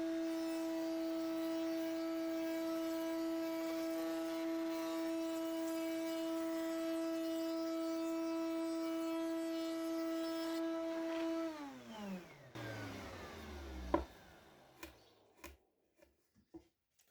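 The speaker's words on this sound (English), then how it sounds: "The work on the router table." A router table hums at a steady pitch while cutting dominoes, then the motor winds down with a falling whine, followed by a few sharp knocks and clatters of wood being handled.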